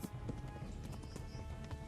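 Faint, continuous galloping hoofbeats of a horse in the medieval game Kingdom Come: Deliverance, a low rhythmic drumming under soft ambient noise.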